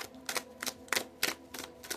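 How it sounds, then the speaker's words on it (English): Crisp papery riffling bursts repeat in a steady rhythm, about six quick shuffles of tarot cards close by, with no talking. "I'm shuffling all the cards we got before actually back into these"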